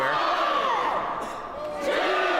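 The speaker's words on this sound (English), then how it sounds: "you hear the Cannon's family in the crowd" Crowd at a slap fighting championship match shouting and cheering, with individual voices rising and falling in loud whoops over a steady background roar.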